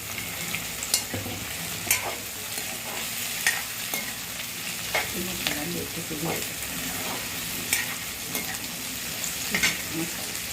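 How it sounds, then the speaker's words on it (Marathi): Carrots tossed into a pan of frying vegetables for egg biryani sizzle steadily as a spatula stirs them, scraping and clattering at irregular intervals, close and moderately quiet. "आता आपण याच्यात गाजर पण टाकून घेऊ"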